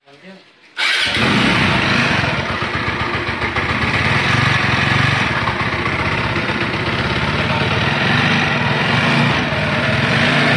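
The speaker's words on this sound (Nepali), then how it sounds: "काम फाइनल भएर बाइकमा इन्जिन चलाउँदैछ है आरटीआर 200 मा।" A TVS Apache RTR 200 4V motorcycle engine fires up just after a short quiet moment, then runs at a loud, steady, throbbing idle close by after a full engine refit, with a person talking over it.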